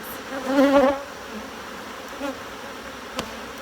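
Honeybees drone near an open hive during an inspection, with a brief louder hum as one passes close, then a low steady buzz fades into the background.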